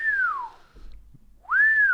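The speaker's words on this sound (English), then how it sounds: "he just goes around whistling" One person whistles two sliding notes. The first falls and fades, and after a short quiet gap the second rises and holds, clear and close.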